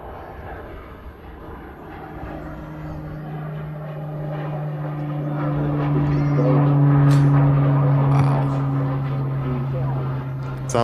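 A Pilatus PC-12 turboprop rolls down a runway and lifts off at Manchester Airport, its steady propeller drone building louder toward the middle and holding, with people talking faintly under it.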